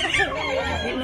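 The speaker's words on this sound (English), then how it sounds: "two chicken." Chickens at a crocodile park in Cebu, Philippines, with a rooster-like crow and clucking, close and fairly loud against outdoor background noise.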